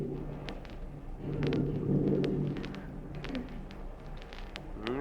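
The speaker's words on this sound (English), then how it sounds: "we heard a clap of thunder, and it started to rain." Thunder-and-rain sound effect from an old-time radio comedy, set around a car parked overnight: a deep rolling rumble swells and fades over several seconds with a steady rain-like hiss underneath, moderately loud.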